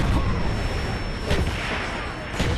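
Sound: enemy mortar fire in video game Call of Duty: Black Ops

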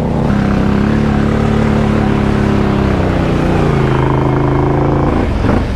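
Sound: ATV four-wheeler engine revving, stuck in a hole

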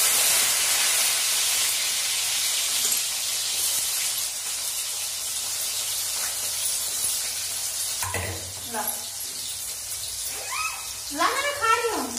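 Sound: potato and eggplant curry cooking in hot oil

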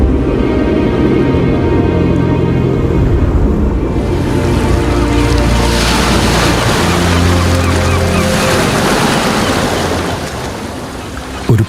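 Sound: sea waves, radio drama sound effect

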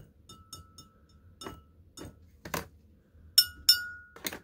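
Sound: heart-shaped frosted glass bowl being handled, clinking

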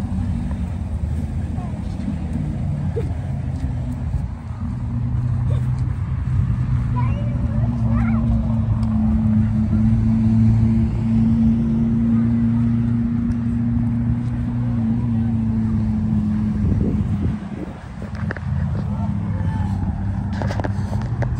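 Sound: trucks at the Buckley Logger Days show

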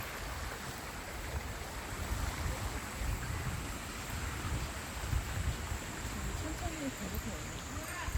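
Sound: water flowing down sloped channel

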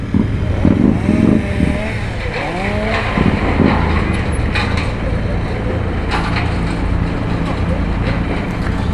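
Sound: Royal Enfield Interceptor 650 motorcycle engine

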